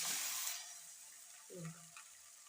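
A sweet potato holige fries in oil on a hot griddle, giving a faint sizzle that fades quickly, followed by a soft scrape or clink.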